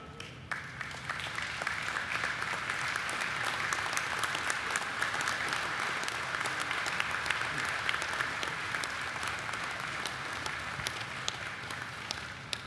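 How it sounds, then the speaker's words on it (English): An audience applauds at a Service Representative of the Year award presentation. The clapping is steady, dense and sustained throughout, with no speech over it. "Please join me in giving a big round of applause"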